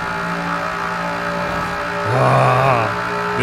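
A race car engine in the driving game Forza Horizon 4, played with a steering wheel, hums in a steady tone and then rises in pitch and loudness as it revs for a moment before settling again.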